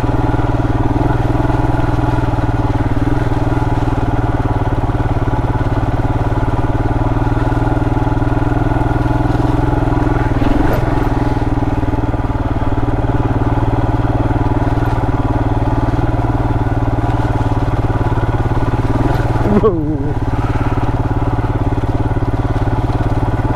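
Royal Enfield Himalayan motorcycle ridden on the Bobblet's Gap off-road trail, a loud, steady single-cylinder engine drone heard close up, with a couple of brief revs and surges along the way and no speech.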